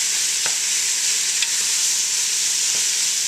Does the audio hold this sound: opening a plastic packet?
no